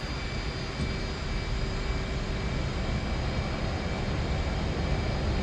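An F/A-18C jet in the DCS flight game rolls down runway 07 for takeoff, its engine roar a steady, loud, broadband rush that holds constant the whole time.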